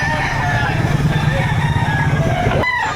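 Chickens and roosters at a Batangas poultry market, with steady clucking and crowing close by under constant crowd chatter and background noise, ending with a brief pause near the end.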